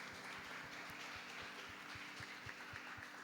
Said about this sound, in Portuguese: uma salva de palmas em nome do Senhor Jesus.